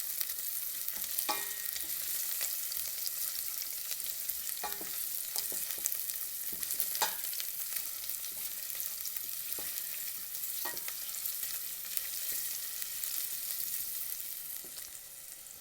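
White asparagus sautéing in a pan for a shrimp risotto gives a steady, even sizzle throughout, with a few sharp clicks and taps from stirring standing out at intervals.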